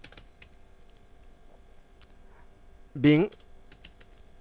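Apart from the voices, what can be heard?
typing on a computer keyboard in Tally Prime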